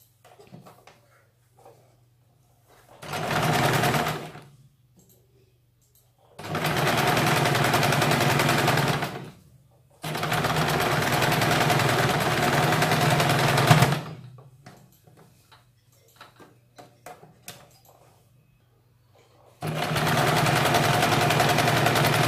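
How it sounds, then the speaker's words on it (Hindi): An electric sewing machine stitches the fitting seam on a slip petticoat, running in four separate bursts of steady mechanical whirring separated by quiet pauses, close and clear with no talking. "दूसरे साइड में भी इसी तरह से ये फिटिंग की सिलाई लगानी है"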